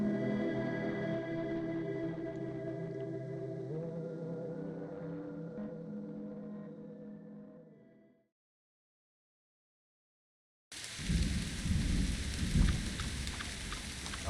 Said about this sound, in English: it's dark and it's raining